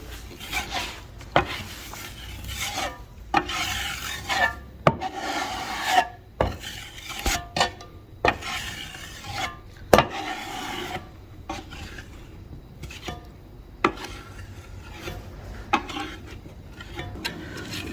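A metal drywall inside-corner tool scrapes and rasps repeatedly along a wall corner in uneven strokes, with sharp knocks between, close and steady, no talking.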